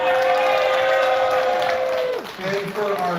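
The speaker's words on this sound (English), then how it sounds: "can we give a round of applause for our contestants" Audience applause for the contestants at a live CypherPunk 2023 event, a broad wash of clapping under a loud sustained tone that fades, with voices mixed in.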